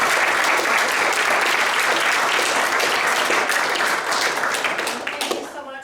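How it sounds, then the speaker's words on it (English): A round of applause from an audience at an artificial intelligence in healthcare event, loud dense clapping that holds steady and then thins and fades out at the end. "Let's give them a round of applause."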